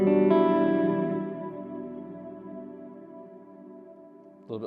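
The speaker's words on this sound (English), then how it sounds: "And then this is another reverb called Black Hole." An electric guitar chord rings through a Black Hole reverb pedal on a praise and worship pedalboard, swelling into a long, shimmering ambient wash that slowly decays, with a faint pick attack near the end.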